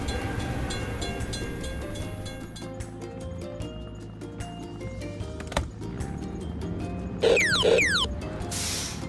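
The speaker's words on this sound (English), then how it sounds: "We have to wait for the train to pass." In a cartoon vehicle game, a train rolls past a closed railway crossing gate with steady mechanical clatter and clicking. A brief bright whooshing effect plays near the end, and nobody speaks.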